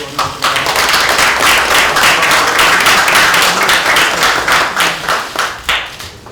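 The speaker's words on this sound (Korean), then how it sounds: "다 함께 박수" A party committee meeting hall fills with loud, sustained clapping from the attendees, dense and close, tapering off at the end.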